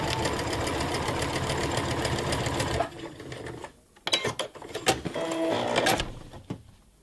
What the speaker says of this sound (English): we can sew while aligning the edge with the seam, the edge of the sewing foot